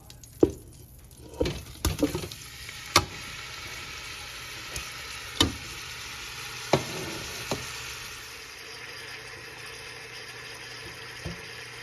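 Four-ounce chunks of salted, peppered chuck roast browning in a hot pan make a continuous sizzle, broken by a few sharp clatters and scrapes of handling early on, then settling into a steadier hiss.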